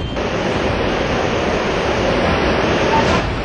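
Water waves in a river in Mandi, Himachal Pradesh, where divers are searching: a steady, loud, broadband rushing wash with no distinct breaks, continuous throughout.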